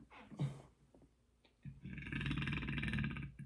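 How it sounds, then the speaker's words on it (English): A single long, loud burp rolls out gurglingly for over a second after a few short throat noises, with no talk over it. "I just burped, and that sounded like a fucking alien creature."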